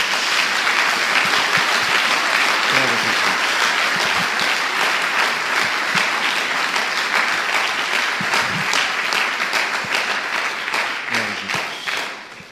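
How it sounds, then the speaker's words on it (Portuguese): A church congregation gives sustained, loud applause to the Lord during a sermon, a thick wash of many hands clapping steadily that thins slightly toward the end. "Dê uma salva de palmas ao Senhor"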